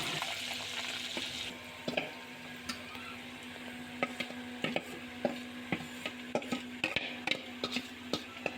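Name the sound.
stirring mashed chana dal frying in a pan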